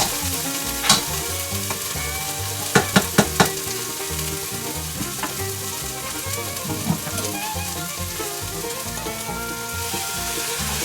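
Ingredients for a Thai pumpkin soup made with garden squash sizzle loudly in a hot pot, a continuous close frying hiss broken by a few sharp clanks of a utensil stirring against the pot.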